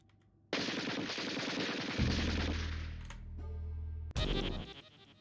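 Gunfire in the video game Lakeview Cabin: a sustained loud burst of rapid automatic shots, then a sudden heavy blast and another short burst, close and harsh.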